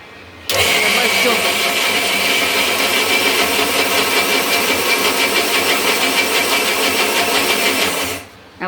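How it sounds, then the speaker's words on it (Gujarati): An electric wet grinder churns soaked urad dal into batter for dahi vada, a loud, steady whirring grind running continuously from start to finish in a home kitchen. "ખાલી અડદની દાળને છે ને પલાળી હતી ને હવે પીસવાનું ચાલુ છે."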